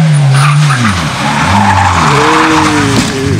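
Rally car at speed with engine revving and shifting pitch, tires skidding loudly throughout; no distinct crash impact stands out, just sustained engine roar and scrabbling tires.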